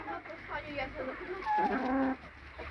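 Chickens in a farmyard coop, a small naked-neck hen and a larger rooster, give close, low clucks and throaty calls, with a louder stretch of vocalizing in the middle.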